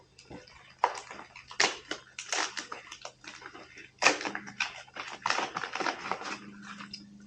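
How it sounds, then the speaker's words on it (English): A bag of assorted fixing screws for a motorcycle luggage rack is rummaged and shaken nearby, giving quiet, intermittent metallic rustling and clinking in short bursts. "bunch of fixing screws for different applications"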